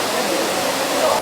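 The artificial Hongje waterfall gives a steady, broad rushing roar of falling water, loud and close, continuous for the whole moment before easing slightly at the end.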